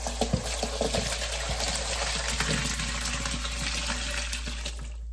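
Chicken stock from a slow cooker poured through a colander into a bowl in a sink, a splashing gush with clinks and taps of solids and metal, under a low steady hum.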